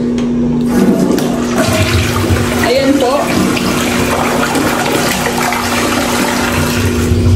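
Newly installed toilet in a finished house project being test-flushed, a steady rush of water draining throughout, with people talking over it.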